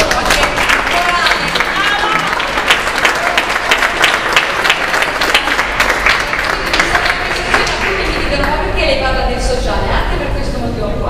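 Audience applause at a choir concert by coro Francesco Paolo Tosti, steady and sustained throughout with voices mixed in amid the clapping.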